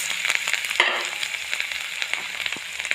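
Cumin, green chillies and chopped garlic frying in hot butter in a pan, giving a continuous close crackling sizzle with brief spattering bursts and a louder surge just after they go in.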